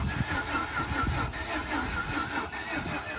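A Jeep Grand Cherokee engine runs steadily at a low, rumbling idle while being shifted into drive, heard close and fairly quiet with no talking.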